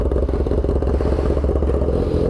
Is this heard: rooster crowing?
no